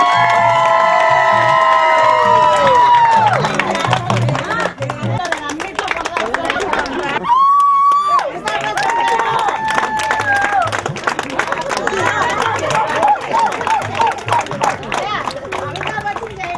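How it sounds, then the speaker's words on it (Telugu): A large audience claps and cheers loudly and steadily for the whole stretch, with children's shouts and chatter mixed into the crowd noise and a brief whistle-like tone partway through. "గట్టిగా చప్పట్లు కొట్టాలి"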